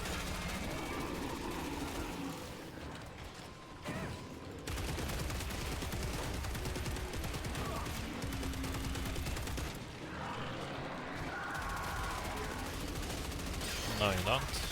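Rapid bursts of gunfire in Killing Floor 3 crack repeatedly over a dense, busy game mix, with brief gaps between volleys and a few sharper shots near the end.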